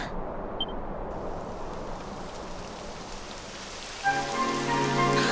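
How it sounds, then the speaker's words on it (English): Rain falls in the video game Dragon Quest XI S, a soft, steady patter on surfaces that continues throughout, with gentle tonal music rising in over the last second or so. "It would have to go and start raining, wouldn't it?"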